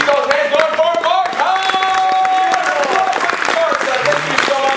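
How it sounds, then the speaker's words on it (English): An audience at a horror make-up show gives a performer a big round of applause: dense, continuous clapping beneath sustained tonal sound and voices. "Let's have a big round of applause"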